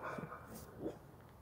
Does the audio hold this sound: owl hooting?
no